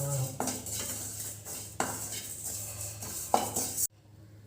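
Metal utensil scraping and clinking in a dry pan, a few sharper knocks standing out over a steady low hum, then it stops abruptly.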